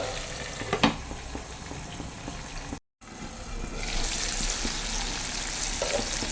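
Chunks of choora (tuna) fish fry in oil in a pan over a low flame, giving a steady, soft crackling sizzle with small pops, briefly interrupted and then resuming a little louder and brighter.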